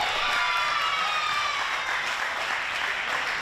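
Continuous applause from a crowd at the 2025 Pan American Cup quarterfinal table tennis match at the 888 Table Tennis Center: dense, steady clapping that stays loud throughout, with faint cheering mixed in.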